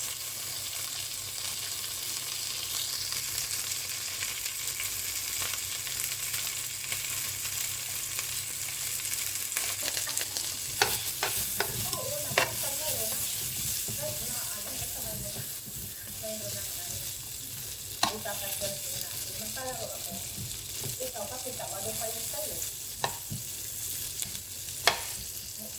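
Asparagus sizzles in a hot pan in a steady, hissing fry, broken by occasional scrapes and clinks of stirring, with faint talk at times.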